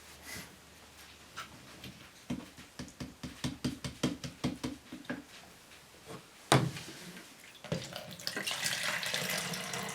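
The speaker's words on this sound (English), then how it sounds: "I can pour the developer away and dispose of it safely" Black-and-white film developer glugs out of a container in rhythmic pulses and splashes into a sink, followed by a knock and a steady stream of running water.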